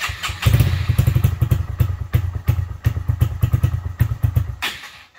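A Honda Grom MSX125 motorcycle's small single-cylinder engine catches and runs close by, putting out a loud, uneven lumpy chug with irregular thumps as it settles toward idle.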